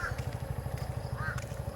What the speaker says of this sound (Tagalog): Uwak siya ng uwak.